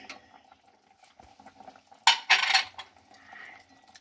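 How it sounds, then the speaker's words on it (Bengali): A spoon clinks and scrapes against a pan while ginger paste is stirred into a simmering pumpkin curry, quiet at first, then a loud burst of scraping and clatter before settling to a soft bubbling. "আদা বাটাটা একটু নেড়ে নেব"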